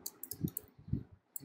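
A few quiet, close key clicks on a computer keyboard while a command is typed into a Linux terminal, brief and sparse with a short gap between them.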